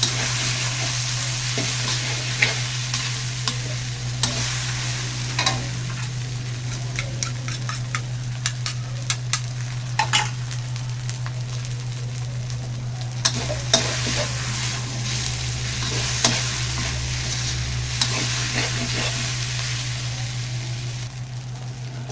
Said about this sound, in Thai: พอผัดทุกอย่างให้เข้ากันเนี่ยครับ ผัดจนแครอทสุกแล้วเนี่ย